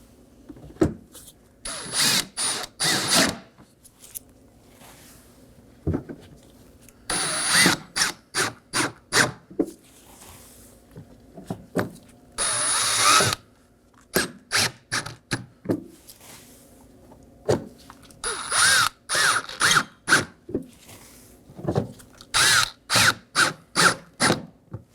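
A power tool drives T15 Torx screws into a 2018-2024 Chevrolet Equinox front bumper cover in repeated short, sharp whirring bursts separated by pauses, close and loud, with no talking.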